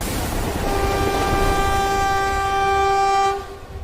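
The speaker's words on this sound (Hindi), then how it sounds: "हमारी ट्रेन तो ऑटोमेटिक चल रही है" A cartoon express train runs along with a long, steady horn blast sounding over its rumble for about three seconds before the horn cuts off.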